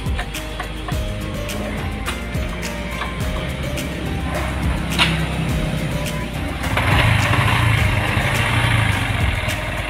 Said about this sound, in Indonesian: Jadi sekarang kita tinggal hidupkan mesin motor ini ya, dengan cara di starter kick